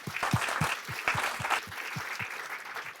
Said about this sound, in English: just a big round of applause to everyone